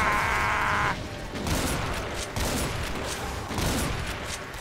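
Super shotgun blasts in Doom, several loud, punchy shots fired at a steady pace with echoing tails, mixed with game sound effects.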